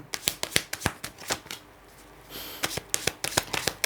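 Tarot cards shuffled by hand in quick riffling bursts of crisp slaps and flutters, with a short pause before another run of snaps, close and fairly loud with no talking.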